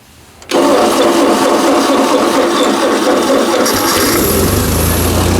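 An old Ford 2N tractor engine, worn and with fairly low oil pressure, cranks and catches after a half second of quiet, then runs loud and steady close by, its tone shifting slightly near the end.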